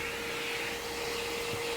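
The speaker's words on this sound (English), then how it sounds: "we're going to pull out the vacuum once again" A vacuum cleaner runs steadily inside a PC case during cleaning, a continuous close whine with a steady high tone and broad hiss, no breaks.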